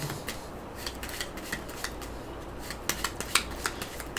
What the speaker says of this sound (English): We actually went through his entire deck, so we're going to shuffle it up.